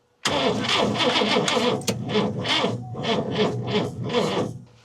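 A 1961 Buick LeSabre engine cranks and catches with a rough, pulsing start, close and loud, then settles into an uneven rumbling run for several seconds, with no voices.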